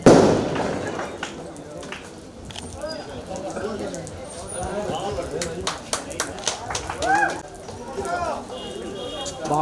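Firecrackers burst at a Christmas celebration, scattered sharp pops and crackles going off irregularly, some close and loud, mixed with crowd chatter and voices talking throughout.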